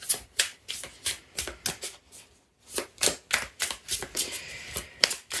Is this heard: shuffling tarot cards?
yes